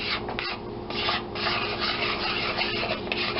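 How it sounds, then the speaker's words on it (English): A small whisk mixes flour with paprika and pepper in a bowl, a close, continuous scraping and rubbing with a steady rhythm and no talk. "take our little whisk thing"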